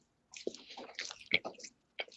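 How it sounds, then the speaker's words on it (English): Someone chewing and eating pizza close to the mic, with wet, crunchy bites and mouth sounds in an irregular run, a brief pause, then one more bite. "so we don't all have to listen to your pizza eating"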